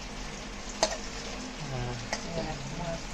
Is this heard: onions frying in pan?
yes